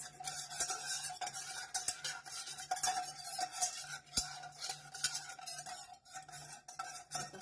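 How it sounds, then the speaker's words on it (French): Whisk stirring plant milk with corn starch in a bowl, continuous quick scraping and clinking of metal against the dish, close and fairly quiet with no voices. "et là on fouette pour essayer de bien diluer la fécule de maïs"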